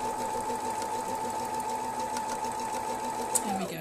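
A sewing machine stitches a quarter-inch seam on a quilt-as-you-go block, running in one steady, continuous burst for almost four seconds at close range before slowing to a stop.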